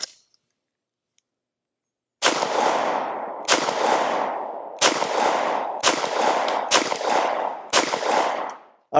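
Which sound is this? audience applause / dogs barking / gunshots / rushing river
gunshots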